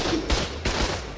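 Two sharp rifle shots ring out in Ark Survival Evolved, about half a second apart, each a loud, booming crack with a short decay.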